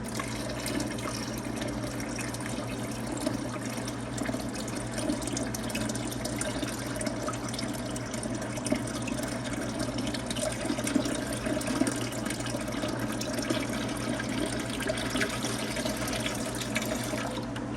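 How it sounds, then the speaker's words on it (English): Water runs steadily into a pot on the stovetop for homemade yogurt, topping up the water around a milk container in a continuous, close filling rush with no pauses. "we're gonna add a little bit more water"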